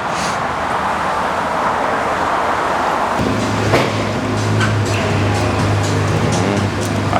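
A Ferrari F8 Spider sports car at an exotic car rental facility: its engine sets in partway through as a deep, steady, droning rumble over broad background noise, with no talk.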